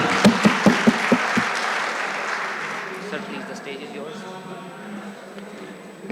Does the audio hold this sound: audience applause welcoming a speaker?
yes